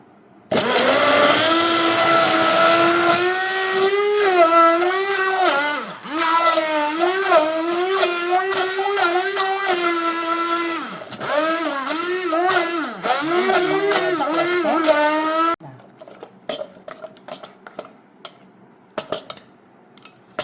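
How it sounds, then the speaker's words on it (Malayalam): A kitchen mixer grinder blends boiled carrots with their cooking water, a loud, close motor whine that rises and dips for about fifteen seconds, then cuts off, leaving faint clinks and rattles. "മിക്സിൻ്റെ ജാറിൽ ഇട്ടിട്ട് അടിച്ചെടുത്താലും മതി കേട്ടോ"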